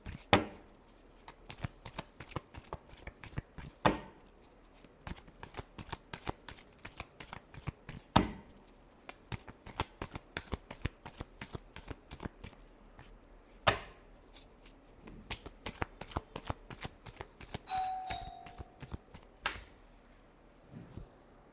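Tarot cards are shuffled over and over, crisp riffles and snaps in an uneven rhythm, close and fairly quiet, with a brief faint tone late on.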